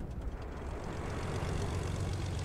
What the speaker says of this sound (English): He just got in a plane.